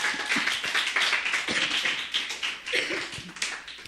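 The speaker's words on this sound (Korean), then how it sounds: "박수 한번 해주세요. 환영한다고." A church congregation claps to welcome someone during a Korean service, a run of quick, uneven hand claps from a small group close by, fairly quiet and with no talking over it.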